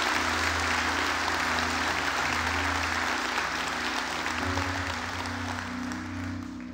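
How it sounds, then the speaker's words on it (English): A church congregation claps for the Lord after a sermon, with continuous applause over low sustained organ or keyboard tones that taper gently at the end. "Can we give the Lord a hand clap for that message?"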